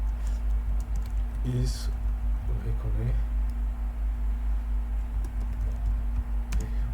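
Typing on a computer keyboard, a few short bursts of soft key taps over a constant low electrical hum, with someone speaking over them.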